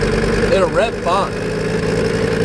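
A Mercedes 300D diesel engine revs up in two quick sweeping bursts before settling back to a steady idle, loud and close.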